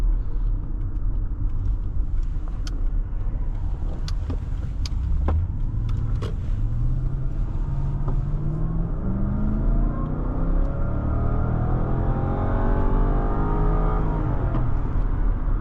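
A 2013 Lexus LS 460 swings through a U-turn and accelerates, its engine note climbing steadily in pitch over a constant road rumble, heard close from inside the car with no talking.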